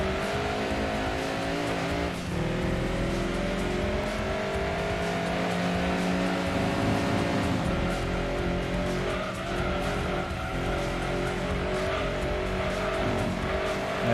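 A Dodge Viper race car in Gran Turismo 2 drives loud and steady throughout, its engine droning with tire noise and brief squeals, on the Grand Valley circuit.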